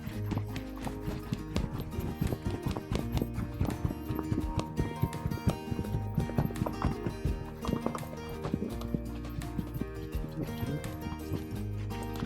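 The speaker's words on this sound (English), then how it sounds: "what you're gonna see is we're gonna get that canter naturally" A gaited horse moves under saddle, its hoofbeats thudding in a quick, steady rhythm close by and continuing throughout with no voices.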